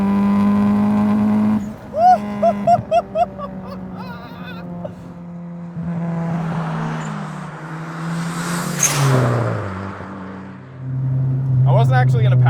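A 400 HP turbocharged EK Civic hatchback with a B18C engine accelerating hard while chasing a Boxster. A loud, rising engine note climbs through the gears with whooshing boost and shifts between them, heard up close from inside the car.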